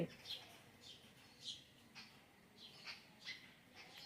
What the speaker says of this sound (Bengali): এত সুন্দর পাখিগুলো কিচিরমিচির করছে।